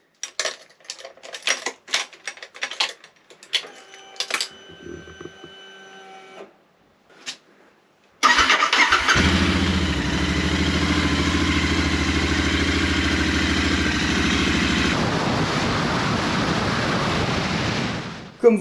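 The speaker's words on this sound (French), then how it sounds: "ce week-end on rallume la moto" A motorcycle engine is restarted in a garage. Scattered clicks and clatter come first, then the engine catches and runs loudly and steadily at close range for about ten seconds before cutting off.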